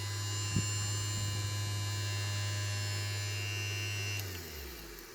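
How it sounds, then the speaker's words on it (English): A rebuilt Cadillac power seat mechanism motor spins on bench power with a steady, close electric hum and whine, then winds down and stops near the end. "the motor spins with tremendous power"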